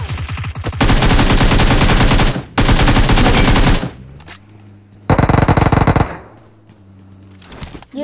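Long sustained bursts of automatic gunfire in a shooting video game, loud and close, separated by short gaps with quieter background game sounds.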